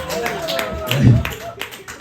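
A comedy club audience claps briefly at a stand-up set, a short scattered patter of hands mixed with laughter and a comedian's voice.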